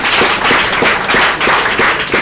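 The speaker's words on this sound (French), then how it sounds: "Bonne réponse, on les applaudit." Audience clapping after a school quiz team's correct answer at a televised inter-school competition, a dense steady patter of hands lasting a couple of seconds, fairly loud and close with no talk over it.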